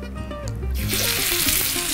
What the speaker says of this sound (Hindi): पैन में डाला ऑयल, आप चाहें तो घी भी डाल सकते हैं,